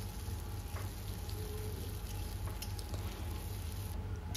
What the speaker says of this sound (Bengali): এখন পেঁয়াজটাকে কিন্তু বেশ লাল করে ভেজে নিতে হবে।